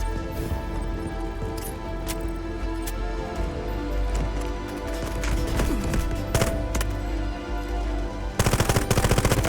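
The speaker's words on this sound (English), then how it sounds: "Can I shoot this at someone? Oh, I can." Gunfire in the video game Delta Force, with rapid automatic bursts and scattered shots under a dense, steady game soundscape that ends in a loud final burst.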